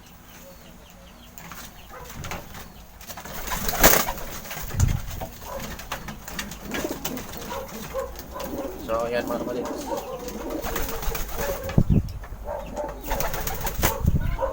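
A friend's pet pigeon coos softly in short repeated phrases close by, with someone talking over it for most of the time.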